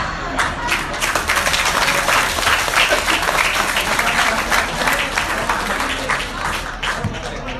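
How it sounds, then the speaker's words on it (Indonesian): An audience applauds at a public talk, dense close clapping with a crowd texture that keeps up for several seconds at a steady level, with some voices mixed in. "Bisa kita kasih tepuk tangan lagi?"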